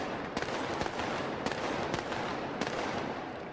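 Three sharp gunshot reports fired in turn during a 1985 rowing race, ringing out distinctly over a steady broadband roar of crowd and outdoor background noise.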